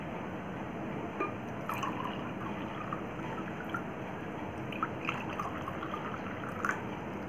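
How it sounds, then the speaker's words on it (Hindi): Water is poured into two glasses, a faint, quiet trickle with small splashes and drips scattered over a soft, steady background. "और पानी को मैं दोनों ग्लासेस में डाल दूंगी।"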